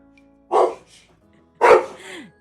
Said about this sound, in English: My dogs agree, as you can hear.